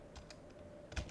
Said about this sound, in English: click enter to apply